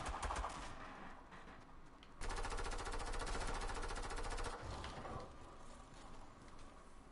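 Automatic AK rifle fire in a video game, with a sustained burst of rapid shots in the middle that stands out loudly over a busy background of game sound.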